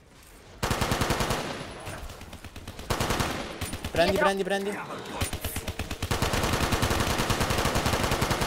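Bursts of rapid automatic gunfire in Black Ops 3 zombies on a custom Monopoly map, with short volleys and sustained streams of shots, plus a brief spoken word in Italian and electronic game effects.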